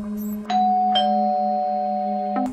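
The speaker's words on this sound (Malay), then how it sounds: "loceng pintu berbunyi" A doorbell chimes a two-note ding-dong, the second tone ringing on and slowly fading before another chime begins.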